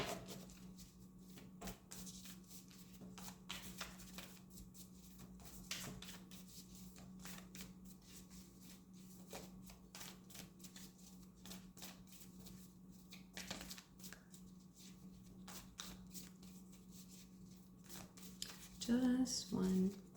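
Tarot cards being shuffled by hand, a steady soft riffling and sliding that runs continuously, close and quiet, over a low constant hum.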